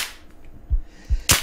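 Gunshots in a PVP shooter game: a few sharp cracks, two softer, lower pops followed by one loud, bright close shot, with no talk.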